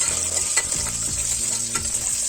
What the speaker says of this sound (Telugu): ఆనియన్ కొంచెం ఫ్రై అయిన తర్వాత పచ్చిమిరపకాయలు వేసుకోవాలి. వేసి బాగా మిక్స్ చేసుకోవాలి.